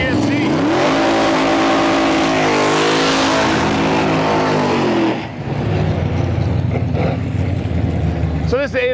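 Drag racing cars, a four-eyed Fox-body and a C10 GMC, launching at Interlake Dragway: a loud roaring engine rises in pitch for about five seconds, then drops away to a rumbling idle under crowd and commentary talk.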